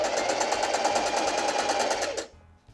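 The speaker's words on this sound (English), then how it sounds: "I'm going to sew the triangle onto the fabric with a 1/4 inch seam." A sewing machine stitching a fabric triangle onto a fabric piece with a quarter-inch seam, running in a steady, fast, close-up whir for about two seconds before stopping abruptly.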